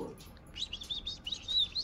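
Pet bird chirping, a run of quick, thin, high tweets close by, fairly soft, after a brief low sound at the start.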